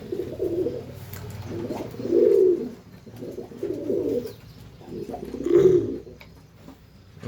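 Domestic pigeons from a male and female breeding pair coo close by, giving four low, rolling coos at a steady, unhurried rhythm over a faint background hum.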